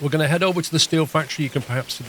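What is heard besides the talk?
No distinct noise like a dog, phone or traffic.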